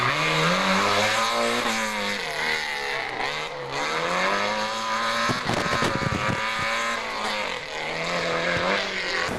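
A yellow 1977 rally competition car in the Rallye Montastruc roars loudly past, its engine climbing and dropping through gear changes with rising and falling pitch, close and continuous.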